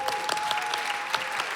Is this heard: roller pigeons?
no